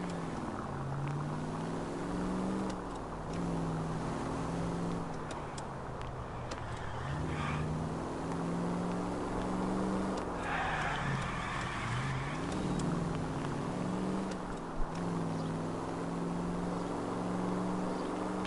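A 1940s car drives in L.A. Noire. Its engine drones steadily and rises and falls in pitch as it accelerates and shifts, with faint road noise and no talking.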